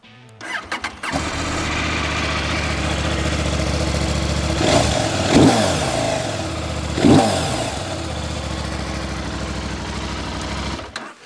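A CFMOTO 800MT motorcycle, just updated, cranks and fires up, then settles into a steady close idle with two brief rising revs partway through before cutting off at the end.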